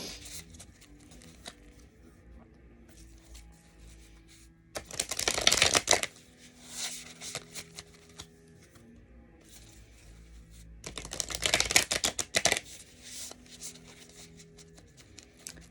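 A deck of cards being shuffled in two brief, crisp riffling bursts separated by several seconds of near quiet, close and fairly soft, with no talking.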